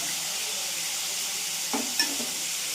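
Bitter gourd masala curry sizzles steadily in a pan, a continuous close hiss with a couple of brief stirring clinks near the end.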